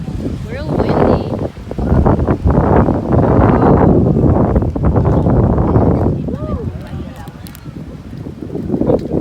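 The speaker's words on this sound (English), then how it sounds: "Real windy." Strong wind at the beach buffets the microphone in loud, gusty rumbling waves, with people talking intermittently underneath.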